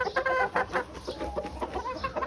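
A white Kelso gamefowl stag, one of a trio, gives a quick series of close, moderately loud clucks and short squawking calls, busy and irregular over a couple of seconds, without talking.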